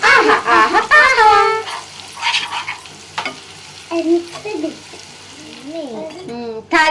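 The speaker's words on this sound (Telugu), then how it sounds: "తాలింపు అయితే వేగిపోయిందండి." Curry leaves sizzle and crackle in hot tempering oil for mango peel pickle, a steady frying hiss with stirring throughout while someone talks over it.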